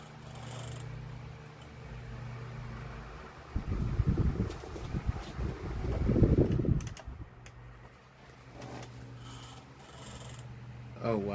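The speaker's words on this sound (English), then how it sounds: "It's not oscillating very smoothly" A Duracraft 12-inch desk fan runs with a steady motor hum while oscillating jerkily, and a rougher, louder rattling surge swells in the middle before settling back to the hum.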